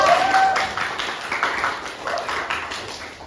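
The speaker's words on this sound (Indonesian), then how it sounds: "tepuk tangan untuk teman kalian" Students clapping for classmates in a classroom after a lesson on Hindu and Buddhist temples, a short burst of scattered hand claps that starts fuller and slowly thins out, fairly close and moderately loud.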